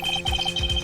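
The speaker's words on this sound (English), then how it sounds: "I had a phone ring just right now." Ringtone in the Phoenix Wright Ace Attorney video game: a bright, rapidly repeating electronic trill in quick pulses, loud and alone.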